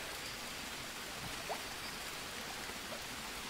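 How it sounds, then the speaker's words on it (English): Hard rain falls steadily in the jungle survival game Green Hell, a faint, even hiss of downpour with a couple of soft drips and a small click at the end. "Raining pretty hard"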